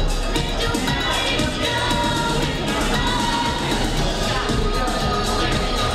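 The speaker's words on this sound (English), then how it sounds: "Everyone, give them a big warm round of applause" Audience applause for fashion show models at an Elks Lodge event, a steady dense wash of clapping sustained throughout, loud and continuous with crowd noise mixed in.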